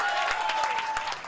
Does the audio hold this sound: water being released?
no